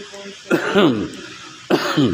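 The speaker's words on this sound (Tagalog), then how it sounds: "Bagamat ako inuubo" A man coughs and clears his throat in two rough, voiced bursts about a second apart. They sound close and fairly loud over steady background noise at an early-morning gathering.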